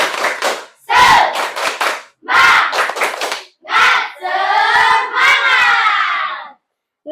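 A group performs a rhythmic 'tepuk semangat' clapping chant, with loud voices shouting the chant in short bursts between claps, close and energetic, ending in a sustained drawn-out shout.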